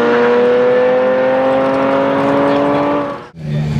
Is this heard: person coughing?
no